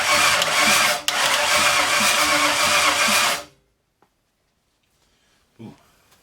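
A 1964 Ford F100, off the road since the 1990s, cranks over loudly in a continuous tight, labored churn that stops abruptly, followed by quiet and a faint voice.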